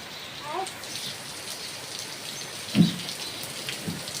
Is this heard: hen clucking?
no